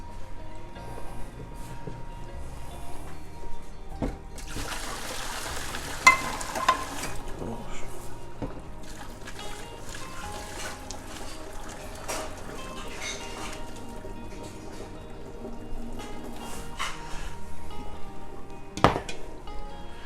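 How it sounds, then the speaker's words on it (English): Boiled noodles being strained out of hot water in a kitchen, with a burst of pouring, splashing water in the middle, surrounded by clattering pots and a steady sizzling roux cooking nearby. "So my noodles are done. I'm gonna strain those guys."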